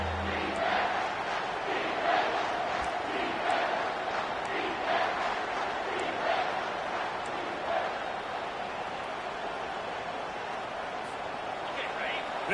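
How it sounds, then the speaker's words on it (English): A college football stadium crowd swells into a dense, steady roar that fills the whole span, loud and continuous with no breaks. "This crowd rising up, sensing that its defense needs some help"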